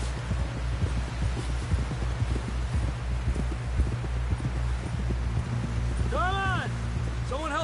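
Horse hooves clip-clop in a steady walking rhythm in the video game Red Dead Redemption 2, fairly close under a constant low engine-like hum, with a voice talking over it and a rising whistled tone near the end.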